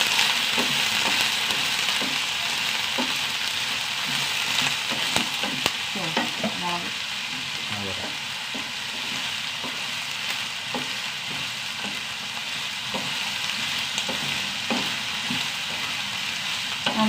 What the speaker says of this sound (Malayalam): കുറച്ച് ചെറിയുള്ളി അഞ്ചു പത്ത് ചെറിയുള്ളി ഉണ്ട് അതും കൂടി ഇട്ടിട്ട് നന്നായിട്ട് നന്നായി വഴറ്റിയെടുക്കണം